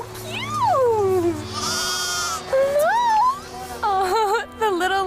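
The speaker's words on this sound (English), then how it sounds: "Oh, the little lambs and sheep were so cute." Lambs and sheep bleating at a Norwegian farm, several wavering cries in a row, loud and close, one after another with short gaps.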